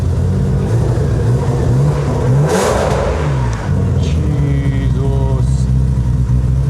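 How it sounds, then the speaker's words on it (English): A 1600-horsepower Toyota Supra with an RB engine revs loudly and close, its pitch climbing and falling through several throttle blips over a steady rumbling idle, with a voice speaking briefly over it. "Give it a little rev here, you know, let us see the oil pressure"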